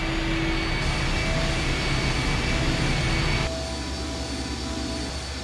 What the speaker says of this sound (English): I'll be damned. The engine's starting up again.